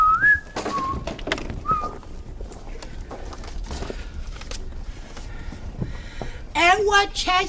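Someone whistles a short, ominous tune in a few bursts, the notes drifting in and out over busy background chatter and noise.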